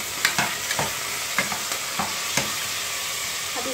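Beef pieces frying in a pot with steady sizzling, broken by several sharp scraping stirs of a spoon at irregular intervals, close and moderately loud.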